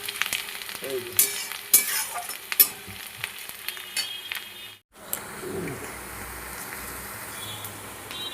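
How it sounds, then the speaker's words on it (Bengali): Onion, garlic and cumin seeds sizzle and crackle steadily in a hot pan with oil, with a few clinks of a utensil stirring, while a voice briefly speaks nearby. "এই যে পেঁয়াজ রসুন জিরে ফোড়ন দিয়েছি, পেঁয়াজ রসুন ভালো করে ভেজে নেব।"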